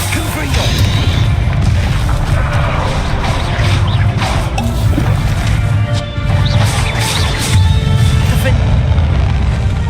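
The Confringo fire spell blasts in Hogwarts Legacy, setting off loud booming explosions and crashing impacts that pile up through a chaotic, continuous battle din, with a voice speaking now and then during the fight.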